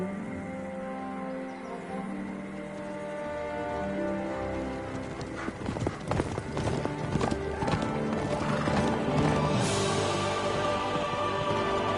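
Horse hooves clip-clop at a steady rhythm inside a video game, quiet at first and then louder and denser over layered game music and ambience, with a whinny-like call near the end.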